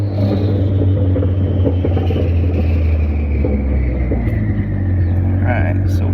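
A loud, rumbling Honda Civic D16Z6 engine runs steadily with a rising big-turbo whine sweeping across it, raw and unmuffled with the exhaust removed.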